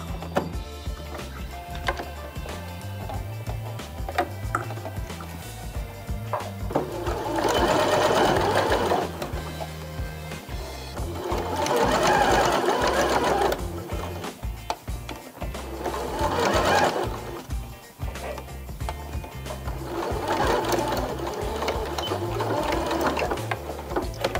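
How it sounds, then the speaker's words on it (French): A sewing machine hums and rattles steadily while stitching close to the edge of a quilted toiletry bag. The motor swells in several longer runs with brief easings between them, close and continuous throughout. "Donc, je fais une couture assez proche du bord."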